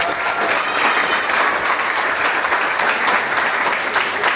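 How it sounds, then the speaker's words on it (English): A large audience applauds at a university startup demo day, dense and steady clapping filling the room for the full stretch, loud and unbroken without voices. "So I want to give a round of applause for Stanford for all that."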